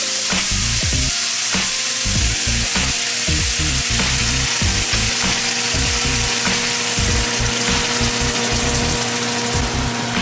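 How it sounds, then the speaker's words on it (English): Dal and chili frying in hot oil, a loud constant sizzle over clattering spatula stirs and scrapes that come fast at first and then space out, heard up close and free of speech. "Just let it fry for about a minute and that's done."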